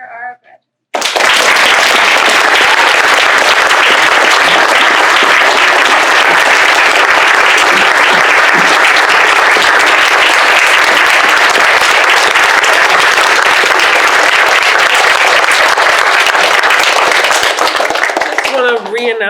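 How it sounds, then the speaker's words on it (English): Loud, dense applause from a high school graduation audience for the graduates, a sustained roar of many hands clapping close by that starts abruptly after a brief sound and continues unbroken for over fifteen seconds. "Let's have a round of applause for our graduates."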